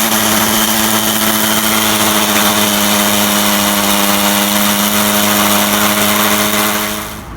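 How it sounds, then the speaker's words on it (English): A power drill bores a hole about an inch deep for wall plugs, giving a loud, continuous motor whine that holds steady for several seconds and then tapers off. "So I'm just gonna start drilling now, and till I get to about 1 inch on the bit"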